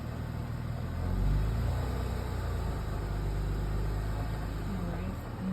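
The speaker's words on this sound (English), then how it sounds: "Alright, engine sounds normal and everything." A car engine, just repaired, runs at a steady low idle, a constant rumble and hum with no revving, heard close from inside the vehicle.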